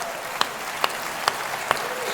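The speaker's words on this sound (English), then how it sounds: "Another round of applause for NHS workers here tonight." Steady applause from a comedy audience, with a sharp knock or bang cutting through at regular intervals, about twice per second.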